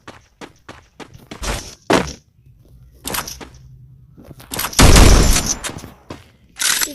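Gunfire from the Free Fire mobile game comes in sharp, close shots in short clusters, with a longer burst of loud noise in the middle and scattered thuds between.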